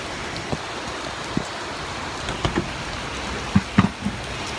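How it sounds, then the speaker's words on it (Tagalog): Steady rain hisses across the whole clip, with scattered louder drops and taps landing nearby, no voices. "Ang lakas ng ulan."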